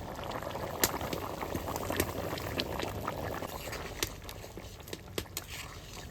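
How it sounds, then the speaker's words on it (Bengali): Chicken curry with potatoes bubbling in a pot, a close, steady simmer of popping and gurgling bubbles with occasional sharper pops, no voices. "মাংসটা জাল উঠে গেছে"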